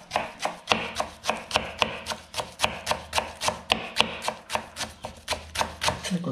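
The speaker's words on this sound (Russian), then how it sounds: "И тоненько-тоненько режем." Knife chopping fresh herbs finely on a cutting board, a rapid, even series of sharp close taps, roughly four per second, with no talking.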